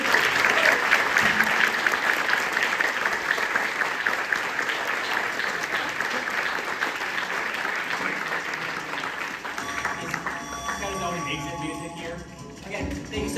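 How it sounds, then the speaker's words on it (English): Applause from an audience at the close of an evening charity event, a dense sustained clapping that stays loud throughout and begins to thin toward the end while faint voices and tones emerge beneath. "Let's give them a round of applause, everybody."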